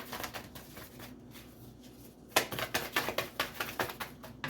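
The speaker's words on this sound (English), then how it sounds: "Two more shuffles and I'll pull from the top." Tarot cards are shuffled by hand. Soft riffling gives way to a quick run of crisp, regular flicks and taps, close and fairly quiet, with no talking.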